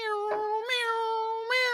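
A person's voice imitates a cat meowing, mimicking cartoon race cars: three drawn-out, tonal meows in quick succession, close and fairly loud with no other sound around them.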